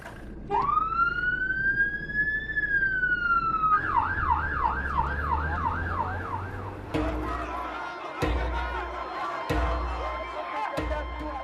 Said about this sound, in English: All the beacons, and then you've got the siren.